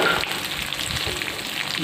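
Spices such as fenugreek and cumin sizzle steadily in a hot pan for dried mango pickle, a dense even crackle holding at the same level throughout with no talk.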